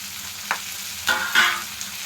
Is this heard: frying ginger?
yes